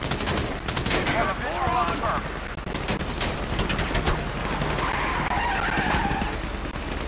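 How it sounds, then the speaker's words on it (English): Gunfire rattles through a Grand Theft Auto 5 shootout in a repeated burst of rapid automatic shots, mixed with engine roar, tire skids and game voices, loud and close throughout. "You hear that gunfire?"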